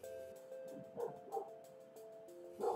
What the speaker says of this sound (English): That is the dogs upstairs that you can hear barking incessantly.